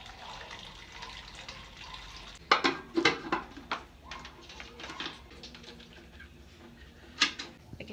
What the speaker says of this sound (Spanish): Vamos a poner agua a calentar aquí,